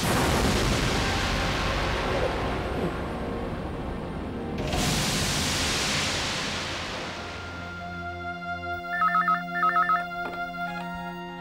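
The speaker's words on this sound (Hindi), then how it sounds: "कृष्णा, तुम्हारा फोन है।" A telephone rings with repeated electronic trills in two short bursts near the end, following a loud rumbling, booming dramatic soundscape; no talking.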